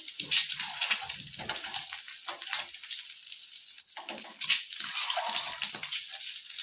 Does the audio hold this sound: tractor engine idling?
no